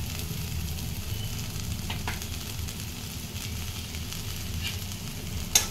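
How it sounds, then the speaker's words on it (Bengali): Vegetables with chili, coriander and cumin powders fry in a pan with a steady close sizzle, stirred throughout, a brief sharper clink near the end. "এবারে সবজিগুলোকে খুব ভালো করে মশলার সাথে মিক্স করে নিতে হবে"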